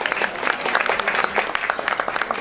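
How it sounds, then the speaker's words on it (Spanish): An audience applauds at a Ford women's awards event, a steady, fairly dense clapping from many people at moderate volume, continuing without pause. "fuerte el aplauso para ella"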